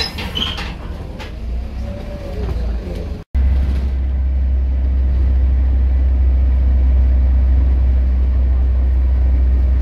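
A Chaserider bus, an ex-Arriva vehicle on route 179, passing on a Staffordshire road near Five Ways: a steady loud low engine rumble that fills the clip, with a brief cut partway through and no talk.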